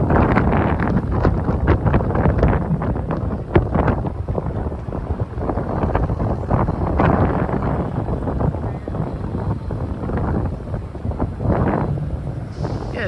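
Strong wind buffets the microphone outdoors in Miami, Florida, in a steady, rumbling roar with gusty swells, loud and close throughout, no voices.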